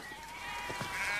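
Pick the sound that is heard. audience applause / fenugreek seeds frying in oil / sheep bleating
sheep bleating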